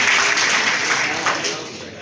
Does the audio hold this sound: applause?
yes